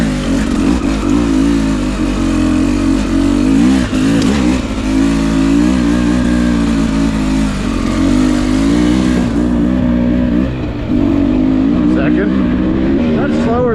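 Beta 300RR two-stroke dirt bike lugging away in first gear, a loud, steady raspy engine drone close to the mic with slight wavering revs, while a rider talks over it.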